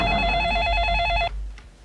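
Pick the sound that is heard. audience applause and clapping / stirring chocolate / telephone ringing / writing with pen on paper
telephone ringing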